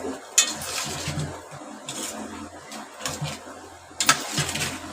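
Spicy chicken masala with green chilli paste is stirred in a pan, giving scraping spoon-on-metal strokes and clinks over a soft sizzle, with a few sharper knocks against the pan.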